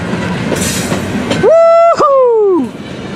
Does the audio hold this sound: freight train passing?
yes